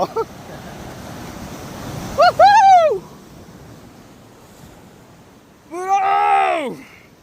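Ocean waves and wind wash steadily at Kakolem beach, a private beach, as a low continuous rush. Two bursts of high, sliding voices rise above it, one in the middle and one near the end.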